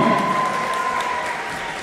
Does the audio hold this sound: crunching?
no